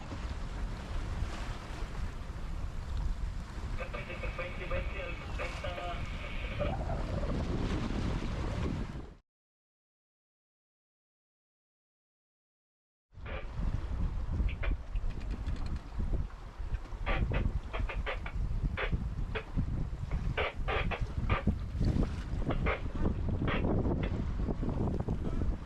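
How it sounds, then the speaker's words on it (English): A sailboat runs dead downwind wing on wing off Cape Finisterre in Galicia, with steady wind buffeting the microphone and rushing water throughout, broken by a few seconds of silence midway. "Cape Finisterre, wing on wing, flying along."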